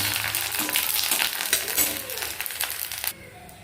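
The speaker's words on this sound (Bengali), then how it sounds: "এই যে সাবুর পাপড়গুলো আর কি ভাজবো" Sago papads frying in hot oil, a steady dense crackling sizzle with crunchy rustles throughout, close and fairly loud, dropping away abruptly near the end.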